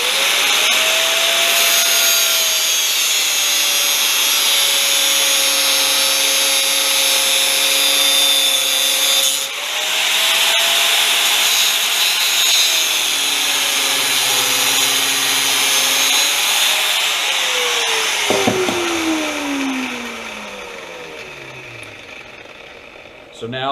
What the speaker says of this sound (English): So now I cut the first link, open it.